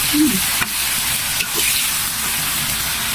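Chicken goes into a hot pan for chicken mechado, giving a loud, continuous sizzle broken by a couple of soft clicks.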